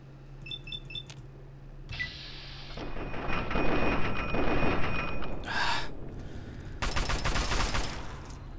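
Gunfire and combat effects in Fallout 3, a dense sustained barrage with a few short beeps at the start, swelling noise through the middle and a loud bright burst near the end, with no talking.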